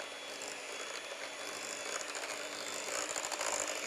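Sweet potato filling is mixed for phyllo poppers, giving a faint, steady scraping and whirring texture with quick rhythmic clicks that grow slightly louder toward the end.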